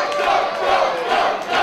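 A wrestling crowd in Waterford roars and cheers steadily, a dense, loud wash of many voices that swells and dips over a couple of seconds.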